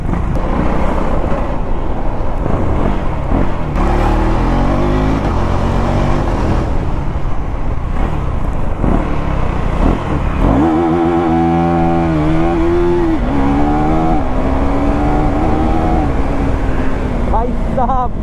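A KTM Duke 390 Gen3 motorcycle accelerates hard, its engine note rising and falling through several gear changes over steady wind rush, with someone talking excitedly over it throughout.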